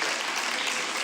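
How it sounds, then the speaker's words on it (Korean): A brief burst of dense clapping from a large group in the South Korean National Assembly, steady and fairly loud, with no talking. "국민의힘은 박수로 호응했고"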